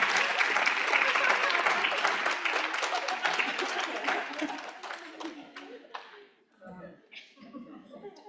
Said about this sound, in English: You can clap for me now.